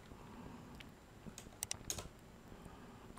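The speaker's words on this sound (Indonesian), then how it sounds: "Tinggal saya ketikkan di sini Visual Studio" Keys tapped on a computer keyboard while entering a search for Visual Studio 2022, a few quiet scattered clicks with a short burst in the middle, no voice.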